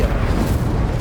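The Incendio fire spell is cast in the video game Hogwarts Legacy, a brief, loud, low whooshing burst of flame that fills the moment with a dense rumbling roar.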